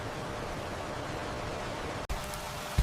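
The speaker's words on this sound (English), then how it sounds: "Rain falls heavily, yet the giant panda continues calmly" Heavy rain falling through a mountain forest, a dense steady hiss close by that holds without letup, broken by a brief dropout near the end.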